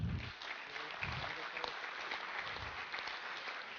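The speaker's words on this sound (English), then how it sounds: "if we give a round of applause for the panel here" Steady applause from an audience for a panel at a leadership summit, dense and continuous clapping throughout at moderate volume, with faint low murmurs underneath.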